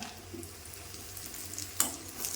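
Dried red chillies fry with shallots in hot oil, a steady soft sizzle with light stirring and a brief sharper crackle near the end.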